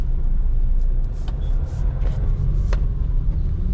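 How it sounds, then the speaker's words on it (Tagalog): Busy road traffic in a crowded area of Matina heard from inside a Nissan Navara, a steady close engine rumble with passing vehicles and brief hisses and squeaks, loud and continuous. "Traffic"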